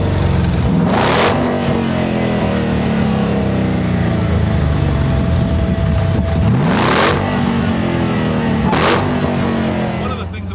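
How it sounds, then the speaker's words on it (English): A Jeep concept fitted with a supercharged Hellcat engine revs hard, a loud, close, continuous mechanical roar that climbs and falls in pitch, with sharp bursts of noise over it and talk mixed in. "then finally when you gave it a little bit of the beans, then the big monster Hellcat engine came to life"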